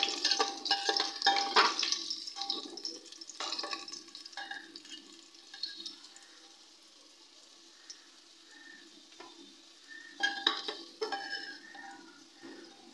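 Fried potatoes are lifted out of hot oil in a pan while cooking mutton curry: a soft, faint sizzle with scattered clinks and scrapes of a utensil, busier at the start and again near the end.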